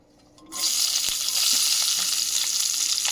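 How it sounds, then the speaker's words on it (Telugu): Finely chopped green chillies hitting hot oil, a sudden loud sizzle that bursts in after a quiet start and crackles on steadily, close up, with no talking. "ఇప్పుడు ఆ నూనెలోకే మనం సన్నగా తరిగి పెట్టుకున్న పచ్చిమిరపకాయలు,"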